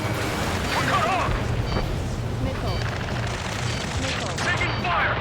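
Continuous gunfire and rumbling blasts during a rescue mission in Ace Combat 7, dense and loud throughout, with voices shouting over the battle.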